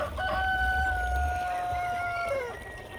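Chickens in a pen on a cold winter day, one bird giving a drawn-out, warbling call over soft low rustling, close and fairly loud, with no talk.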